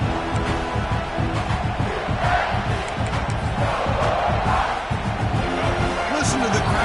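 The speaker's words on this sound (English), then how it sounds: "Listen to the crowd energy here in the early going" Stadium crowd noise from a football video game, South Carolina against Florida, as a dense, loud roar that holds steady throughout without a break, with a few sharper shouts rising out of the din.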